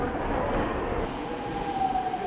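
A subway train pulls into a station platform on the line toward Gunja Station. It gives a steady rumbling roar with a high whining tone that cuts off partway through, and no one speaks.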